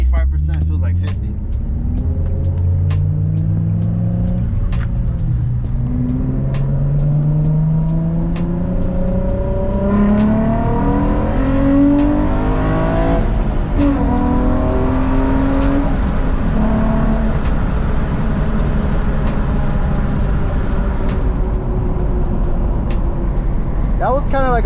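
A Nissan G35/350Z fitted with a 75mm throttle body accelerates hard at full throttle from inside the cabin, its engine rising in pitch through gear changes, loud and continuous under wind and road noise.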